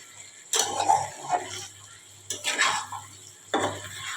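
A spatula stirs chicken curry in a pan during meat braising, three distinct scraping strokes against the metal with soft sizzling and short gaps between them.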